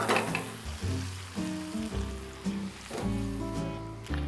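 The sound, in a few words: stir-frying tofu with white pepper in a pan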